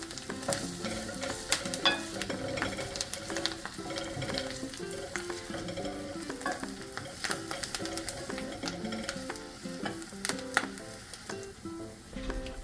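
Onions and curry leaves frying in a pan, a soft steady sizzle with frequent spatula taps and scrapes in an irregular rhythm, close and moderately loud, with quiet tonal background music and no talk.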